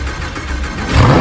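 A Lamborghini engine cranks and catches, then rises into a loud, close rev toward the end of a short burst.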